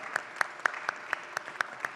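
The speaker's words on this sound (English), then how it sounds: "Can we please give them a huge round of applause?" An audience at an Emirati Women's Day panel claps, sharp separate claps spaced evenly and fairly close, brief and light rather than a full ovation.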